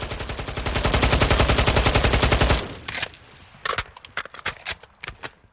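AK-74M rifle in Call of Duty Modern Warfare II firing a long rapid automatic burst, then several short bursts and single shots with gaps between, loud and close.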